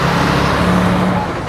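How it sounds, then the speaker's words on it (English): A truck swings wide around a street corner, its engine a steady near roar of traffic noise with a low droning hum, loud and continuous with no talk. "That truck swung wide."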